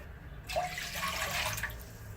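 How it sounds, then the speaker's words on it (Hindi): Two cups of water poured into a pan while making homemade orange squash: a steady, close splashing rush that starts abruptly after a brief pause and keeps flowing to the end. "2 कप मैंने इसमें पानी ऐड कर दिया है"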